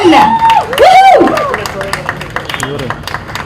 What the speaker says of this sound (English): I think the applause should be a little louder